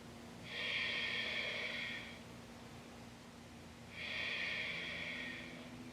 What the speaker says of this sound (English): Just remembering to breathe.